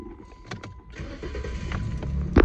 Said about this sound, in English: So start the ignition.